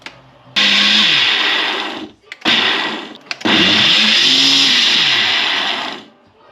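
A blender mixing a drink whirs loudly in three bursts. A short run, a brief one and then a longer spin are separated by quick pauses, with a low hum at either end.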